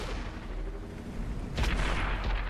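Tank cannon fire and battle booms in World of Tanks on console, a low rumbling background followed by a sudden loud blast that rolls on as a heavy boom, no talking.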